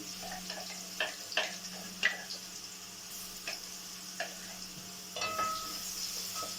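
A spoonful of garlic frying in ghee gives a steady, soft sizzle with scattered small crackles and ticks, close by and fairly quiet throughout.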